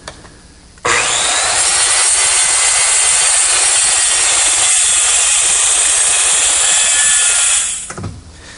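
A power saw trims the end of a glued-up wooden butcher block in a woodworking shop, a single loud, steady cut running about seven seconds after a brief motor spin-up, then winding down.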